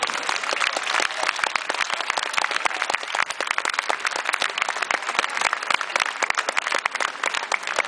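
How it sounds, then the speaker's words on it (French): Dense, steady applause from an audience gathered before the French Senate, many hands clapping continuously at an even level throughout. "Merci de l'applaudir."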